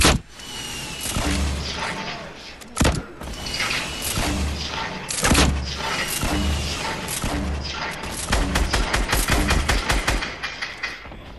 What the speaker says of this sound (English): somebody been shooting a crossbow at me for a minute